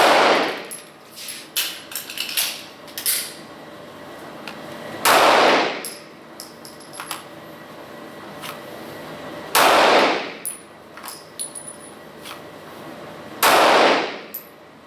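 Pistol shots from a 9mm Glock 43 or M&P Shield ring out at an indoor or outdoor range, four loud, sharp reports spaced several seconds apart, with fainter distant gunfire and clanks from other shooters in between.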